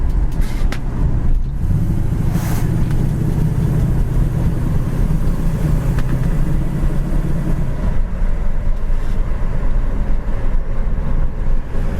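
A 1973 Ford Mustang cruises down the road, its loud, steady engine drone and road rumble running continuously from inside the car, with a low tone that shifts partway through.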